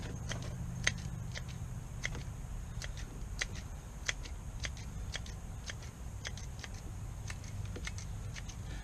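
Shears snip bonsai nursery stock roots at the soil surface, a series of faint, crisp clicks in an irregular rhythm over low background hum.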